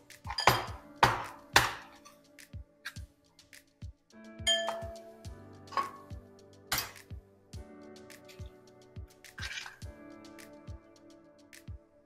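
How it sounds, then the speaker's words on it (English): A fork scrapes and clinks against a bowl while mixing a breadcrumb coating for breaded chicken cutlets, with a steady series of sharp, close metallic taps and a few louder chimes, no voices. "we're going to take a fork, mix that up"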